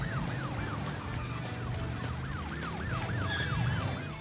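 A wailing police car siren from the Crash Bandicoot Warped racing game repeats in rapid rising and falling sweeps, loud and steady over engine rumble and game noise.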